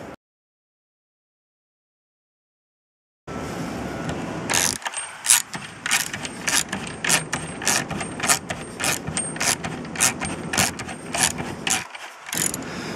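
Ratchet wrench tightening a long bolt with a washer into wood for a large Christmas tree stand, a quick series of sharp clicking strokes close by after a short silence.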